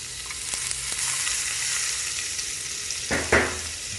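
Olive oil and butter sizzle steadily in a frying pan for potato rösti, a close hissing fry with light stirring clatter and a louder burst of spatter near the end.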